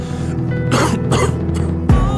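A person coughs and clears their throat, a couple of rough hacking bursts close to the microphone, followed by a brief low thud.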